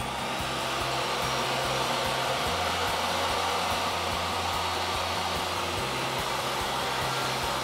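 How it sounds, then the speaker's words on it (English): A table saw making a 45-degree angled cut in wood for a floating shelf, a loud continuous whirring drone that holds steady with slight shifts in pitch as the blade works through the board. "We can set the fence to 8 inches and make our first angled cut."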